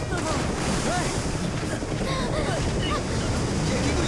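Rough sea waves crash and churn around a boat in a steady roar, with constant wind buffeting the microphone and no break in the noise.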